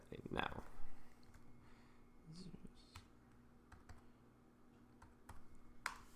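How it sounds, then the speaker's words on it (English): Keys clicking as a verification code is typed on a computer keyboard, a handful of light taps spread through a quiet stretch with a low steady hum underneath. "Type it in now."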